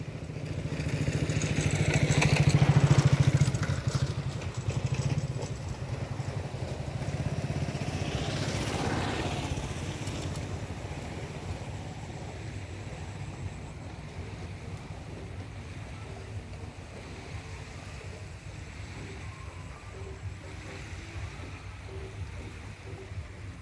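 Fishing boat engines on the water at Gangasagar make a low, continuous droning rumble heard from a distance, mixed with wind and lapping water. It is louder early on, then fades to a softer, steady hum.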